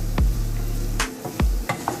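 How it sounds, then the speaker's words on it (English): Raw banana cubes fry in oil while being stirred, with a steady close sizzle broken by several sharp spoon scrapes and knocks against the pan. "Give it a nice mix, and you may have to add a little more of oil."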